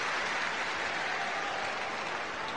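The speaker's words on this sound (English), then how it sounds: "Djokovic, as always, appreciating the applause" Steady, dense applause from a tennis crowd after a point, a continuous even wash of clapping from many spectators, fairly distant and without talk on top.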